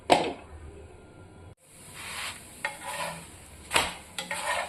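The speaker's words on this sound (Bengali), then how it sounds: "এইভাবে সমস্ত পরোটাগুলো আমি ভেজে নেব" Pea-stuffed paratha frying in a pan, a soft steady sizzle broken by a brief gap and a few sharp scraping or turning clatters near the end; no talking.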